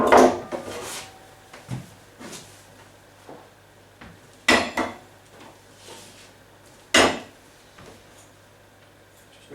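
Trivet and metal baking pans holding two loaves handled on a kitchen counter, giving several sharp knocks and clatters spread over the stretch with quiet gaps between, close by, with no talking.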